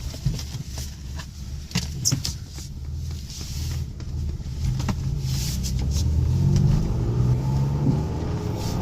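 A BMW E36 engine idles low and steady while the car reverses, a continuous rumble that swells slightly toward the end with faint background noise.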